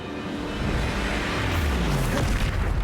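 A deep, rumbling blast from the Confringo spell in Hogwarts Legacy swells and booms low and heavy, sustained over a couple of seconds with a falling roar.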